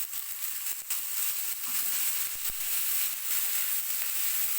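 Soy sauce goes into vegetable spaghetti frying in a pan, giving a steady, moderately loud sizzle and hiss. Brief clicks of a utensil break through now and then.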